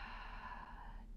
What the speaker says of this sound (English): just take 3 deep breaths here